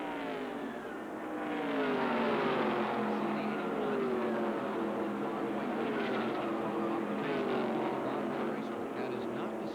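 Sportsman stock cars racing at Charlotte Motor Speedway in 1990, a roaring pack of engines sweeping past with rising and falling pitch, loud and continuous beneath a race commentator's voice.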